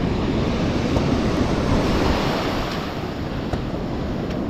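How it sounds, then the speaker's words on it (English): Ocean surf washing up a beach at low tide on a razor clam dig, a steady, loud, continuous roar of breaking water with wind noise and no voices. "It's a low tide, but the surf just keeps coming right on up."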